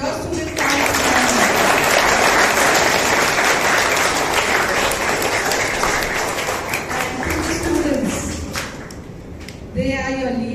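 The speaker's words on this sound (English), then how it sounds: "So children, a round of applause to your Student Council." Sustained applause from a school audience of children at a student council investiture ceremony, loud and steady for about ten seconds before thinning out, with a voice starting to speak near the end.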